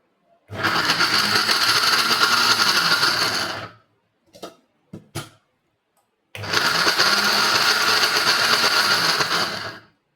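A kitchen mixer grinder grinds chopped dates, running loud and steady for about three seconds, then a few brief clicks and knocks, then a second equally loud burst of grinding.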